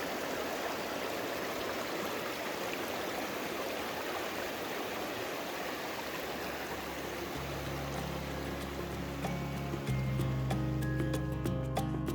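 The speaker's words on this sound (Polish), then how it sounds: "Woda w strumieniu jest lodowata." An ice-cold mountain stream in the Tatra Mountains rushes steadily and close by as an even wash of flowing water, with music fading in during the final seconds.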